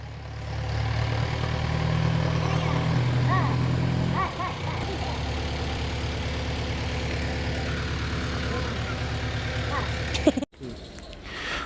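A tractor engine runs loud and close in an outdoor farm setting, its heavy low rumble shifting partway through, then continuing under background voices until an abrupt knock near the end.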